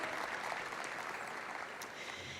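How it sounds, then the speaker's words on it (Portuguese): A panel audience at an events-industry congress applauds, a steady wash of clapping that fills the short moment and stays fairly even throughout. "Vamos aplaudi-lo também, muito obrigada pela presença."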